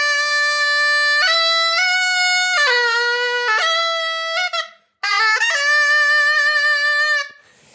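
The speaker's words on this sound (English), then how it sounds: "I played this thing, which is a zurna." A zurna, a double-reed folk shawm, plays loud, piercing sustained notes that step between pitches and slide into ornamented runs, with a brief break midway; close and solo, no voices.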